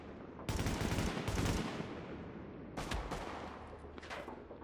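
Gunfire in The Division game: two loud bursts of automatic fire early on, a pause, then two more shorter volleys, all close and without talk.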